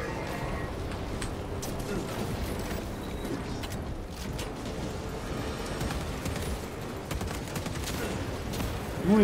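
Gunfire and clanking mechanical noise in Warhammer 40000: Space Marine 2, rapid repeated shots over a busy battle din with a louder hit at the end.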